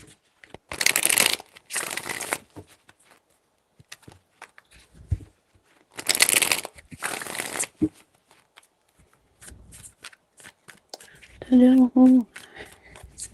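Tarot cards are shuffled in four loud riffling bursts, two close together, a pause, then two more, with quieter handling noises between them and a brief voice near the end.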